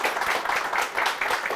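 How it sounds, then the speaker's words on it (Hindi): A studio audience welcomes IVF specialist Dr. Gauri Agarwal with steady, dense applause, a continuous wash of many hands clapping with no voices over it. "जोरदार तालियों के साथ स्वागत करिए देश की जानी मानी IVF specialist doctor Gauri Agarwal का।"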